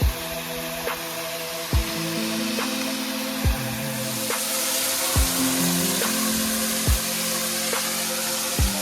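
Natural shower of cold water falling in a hill pepper plantation, a steady close hiss and spatter that grows louder midway, with periodic soft thumps throughout.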